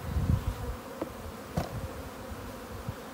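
Honeybees buzz faintly and steadily around a hive while a nuc is being installed, with bees being shaken out, soft handling knocks and thuds under the hum and no talking.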